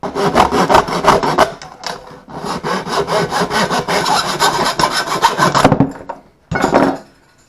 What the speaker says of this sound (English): So now we're going to cut this shorter so it's not so bulky.